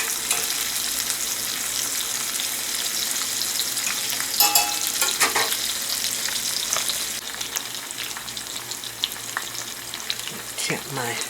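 A pork chop fries in a pan with a steady, close sizzle that runs throughout, with occasional scraping and stirring sounds and no talking.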